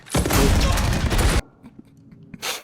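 Gunfire from the film Inglourious Basterds rings out as a dense, loud fusillade of rapid shots for over a second. It then cuts to quieter scattered thuds, and another burst starts at the end.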